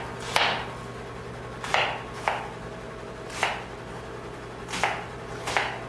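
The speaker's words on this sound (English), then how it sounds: "I'm going to chop up some onions here" A knife chops onions on a cutting board for stuffing, with five sharp, close knocks at uneven intervals over a steady low hum.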